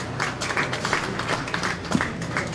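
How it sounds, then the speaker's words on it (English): Audience applause at a county fair beef show after an Angus heifer class, a sustained patter of scattered hand claps at moderate level under a slightly echoing arena ambience. "Let's give them a round of applause."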